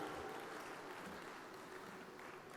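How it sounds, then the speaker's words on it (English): An audience applauds at an ICAI annual international conference, a dense, steady wash of clapping from a large crowd that fades slightly toward the end. "Can we have a big round of applause for Ashna, the ExCom member of ICAI Dubai chapter"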